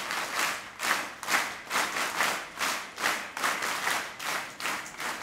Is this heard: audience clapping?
yes